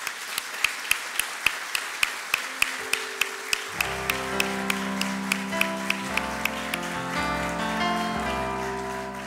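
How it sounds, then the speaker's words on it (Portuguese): A church congregation at a wedding applauds for the couple. Steady rhythmic claps open the clip, then a sustained musical tone enters and the clapping continues under it. "Vamos dar uma salva de palmas para ele."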